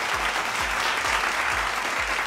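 A studio audience at an evening talk show claps in dense, steady applause that fills the whole stretch, with faint rhythmic low thumps pulsing underneath and no talking.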